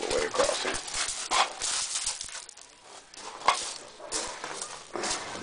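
Dogs on patrol around a house under construction, barking and whimpering in short bursts at close to moderate distance over rustling background noise.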